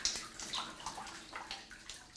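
Water flowing through a flooded tunnel of an old mine, a steady rushing and gurgling wash with small splashes, moderately close and continuous, no voices.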